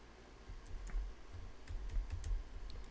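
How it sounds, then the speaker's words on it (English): Keystrokes on a computer keyboard tap in a faint, uneven burst of soft clicks across a few seconds, with no voices. "we're going to click here, and then we're going to type in"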